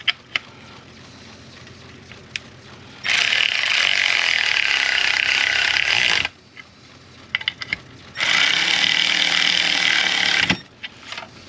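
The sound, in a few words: ratchet torquing down crankshaft position sensor bolt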